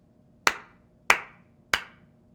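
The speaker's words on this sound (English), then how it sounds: "Now, I clap 3 times." Three sharp, evenly spaced hand claps ring out one after another in a quiet room, each one crisp and fairly close, with nothing else heard between them.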